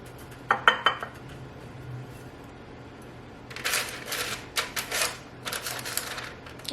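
Breaded pork chops set into an air fryer basket in a kitchen, a few sharp metallic clacks at first, then a cluster of close rattling and clattering knocks of the basket and tray over a steady hum.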